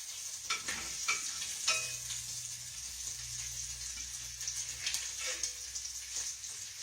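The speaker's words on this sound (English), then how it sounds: "Let me turn this over, y'all. Give me a minute. I don't want my bacon to burn." Bacon frying in a pan gives off a steady, fairly quiet sizzle and crackle, with faint pops and light handling noises throughout and no talking.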